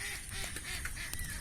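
Ducks quack by a village pond in Kadigachha village, Purba Bardhaman, a few short nasal calls repeating quickly over a faint outdoor background.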